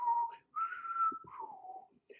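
A person whistles a short melody imitating a tin whistle tune, a few sustained and sliding notes with brief pauses, close and clear with no talking.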